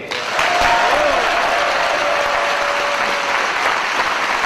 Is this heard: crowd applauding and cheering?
yes